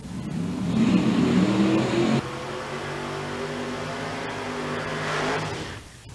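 Drag racing cars at an outlaw event, including a Camaro, rev loudly at the start line, engines roaring in bursts then holding a steady high drone before dropping off, with no talk.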